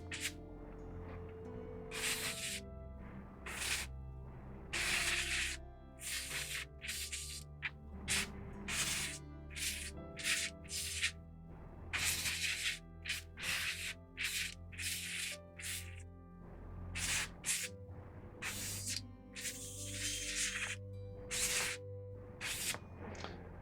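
Short hissing bursts of spray paint aimed at plastic parts of a Tamiya Spitfire Mk.1 1/48 scale model, repeated many times in quick, uneven pulses over steady background music.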